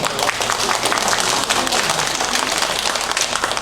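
Audience applause at a church fiftieth-anniversary thanksgiving gathering, honouring a man who led Bible study and baptism; dense, steady clapping from a crowd fills the whole stretch, close and fairly loud, with no talk over it.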